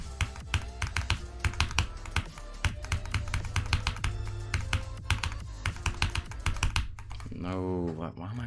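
Rapid, close computer clicking while a game level is played, sharp taps packed in a fast, uneven rhythm, loud throughout, with a brief tonal sweep near the end.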